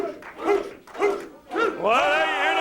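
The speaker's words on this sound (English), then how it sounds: "Well, hey, you hear the barking" Dogs bark in a run of loud, close yips and howl-like cries, three short bursts followed by a longer sustained wail, amid a noisy wrestling event crowd.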